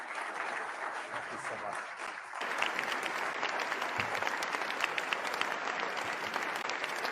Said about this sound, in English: I think you also heard a warm applause that your call to action was well received.